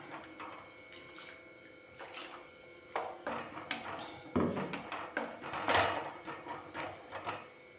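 Water splashes and sloshes in bursts as a blender jar is rinsed, with clinks and knocks of the container in between.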